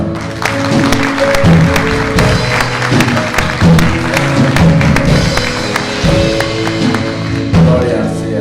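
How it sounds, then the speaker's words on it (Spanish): A church congregation claps for the Lord, a lively, dense applause of many hands that keeps going steadily throughout, with a few voices calling out beneath it. "Vamos a darle un aplauso al Señor"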